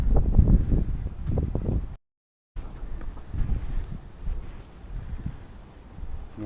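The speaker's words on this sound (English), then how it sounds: "The wind is going to be strong up here" Strong mountain wind in the Japanese Alps buffets the microphone with loud, low, gusty rumbling throughout, broken by a brief complete dropout.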